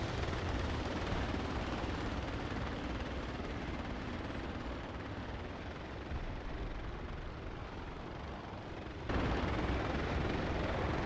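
Airburst mortar rounds bursting just above the ground in the Project Reality military game, heard as a dense, continuous roar of blasts and rumble that fills the whole stretch, loud and steady with no talk.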